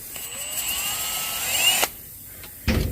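A power drill whirs close by while drilling into a Lincoln Town Car air suspension bag, its pitch rising and falling, then cuts off abruptly; a short clatter follows near the end.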